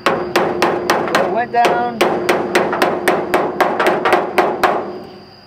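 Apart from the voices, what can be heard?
hammer tapping the door edge of a 1927 Ford Roadster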